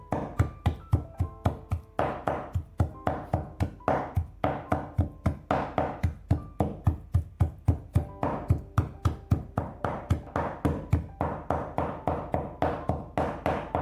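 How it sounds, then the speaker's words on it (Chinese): A knife mincing food on a cutting board for a green bean and noodle dish makes fast, steady, even thuds. The chopping goes on for over thirteen seconds with no talk. "最后给它剁碎，"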